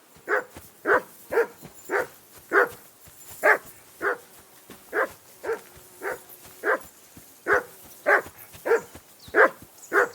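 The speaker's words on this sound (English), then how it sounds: "I assume you can hear that damn dog." A dog barking in the video game Kingdom Come Deliverance II, about fifteen evenly spaced barks in a steady rhythm at moderate distance, with no talk over them.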